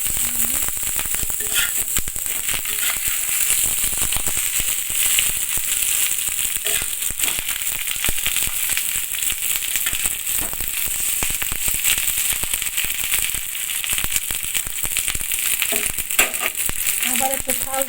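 Hilsa fish wrapped in banana leaf frying in a pan, giving a loud, continuous crackling sizzle with scattered pops throughout.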